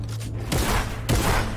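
Gunfire from a sniper in a Fortnite match: two heavy shots about half a second apart, each a sharp broadband crack that fades into a rumbling tail, close and loud over steady game background.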